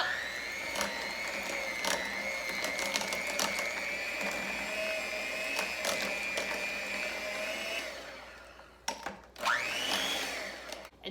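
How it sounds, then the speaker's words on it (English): A hand mixer whirs steadily while blending snack ingredients, a loud, close, high-pitched motor hum that runs for about eight seconds, then cuts off and briefly restarts in short bursts. "just have your hand mixer."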